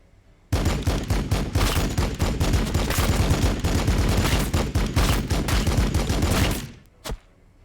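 An assault cannon in a Warhammer 40,000 video game fires one long, loud, continuous burst of rapid automatic shots lasting about six seconds, then stops abruptly, followed by a single short burst.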